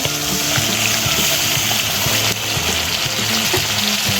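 Shrimp paste frying among spices in a hot pan gives a steady loud sizzle and crackle, continuous throughout with a few small stirring knocks.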